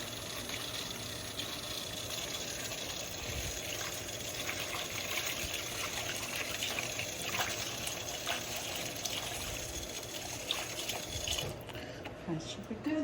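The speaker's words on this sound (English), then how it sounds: "add some cold water, and I'm going to wash my lettuce" Cold tap water runs steadily into a sink over lettuce being washed, a soft continuous trickle and splash close by, with no break.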